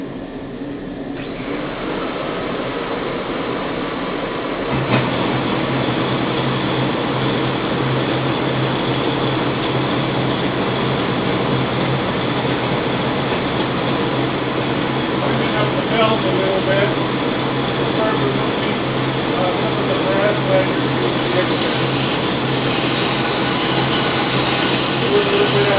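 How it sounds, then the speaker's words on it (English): A shop vacuum starts with a rising whine and then runs as a constant drone, with a sander buzzing alongside it, both loud and unbroken throughout. "I'm going to start up the vacuum as well as the sub sander."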